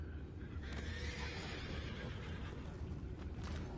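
A horse whinnies faintly in the video game Red Dead Redemption 2 over a steady low rumble of background noise, the call drawn out and distant.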